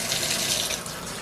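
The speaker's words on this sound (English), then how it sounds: "we're gonna run water over it" Tap water runs in a steady, close, splashing stream over a dissolved eggshell in a sink during a chemistry experiment.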